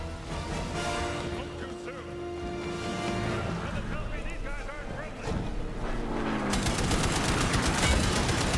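Rapid gunfire rattles in the Indiana Jones and the Great Circle video game, a dense, sustained barrage of shots mixed with engine and wind roar, growing louder toward the end.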